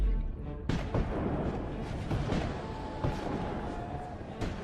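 Distant World War I artillery explosions carrying across the Arctic ocean: a series of low, rumbling booms rolling in one after another over a steady background wash.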